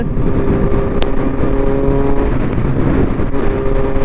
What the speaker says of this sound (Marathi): सुंदर अशी BMW चालले